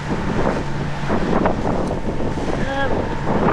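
Wind rushes steadily across the microphone on a sailboat heading into a headwind at sea off the Irish and southern English coast, a continuous noisy roar with faint wave wash beneath it.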